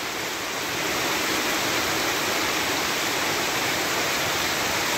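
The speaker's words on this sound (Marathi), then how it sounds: "मूर पाऊस आहे म्हणजे जमीन पूर्ण ओली होऊन आता पाणी वाहत आहे वरचं।" Heavy monsoon rain pours down on a wooded village area with houses, water running across soaked ground, a dense, steady, loud hiss with no break and no other sound.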